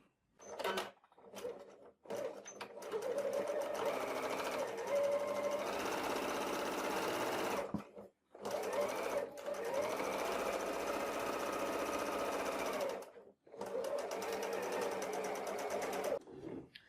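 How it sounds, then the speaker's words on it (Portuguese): Sewing machine set to stitch length 3 stitching fabric for a notebook cover, running in long steady buzzing bursts broken by short pauses as it sews forward and backstitches. "eu vou costurar, vou dar uns pontinhos pra frente, fazer o retrocesso e vou até o outro lado"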